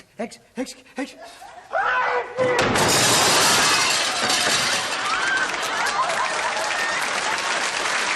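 Crockery said to include Wedgwood and Dresden pieces crashes and shatters loudly on a 1980 TV game show, right after brief talk, then a studio audience erupts in long applause and laughter.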